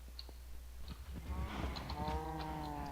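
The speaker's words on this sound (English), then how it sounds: "Come on, cows." Cows moo in the Minecraft video game: a couple of low, drawn-out digital moos with a bright overtone, close and clear over a faint steady background, with no one speaking.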